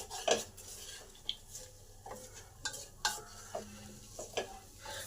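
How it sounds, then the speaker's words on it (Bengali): A spoon stirs potato curry in a metal pan with a series of scraping, clinking strokes against the metal, joined by a faint sizzle underneath, close and moderately loud with no talking. "এবার সমস্ত কিছু একসঙ্গে ভালো করে নেড়ে নেব।"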